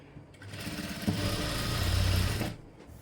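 A sewing machine stitches a long frock in a single fast whirring run of about a second and a half, close and fairly loud, starting and stopping abruptly.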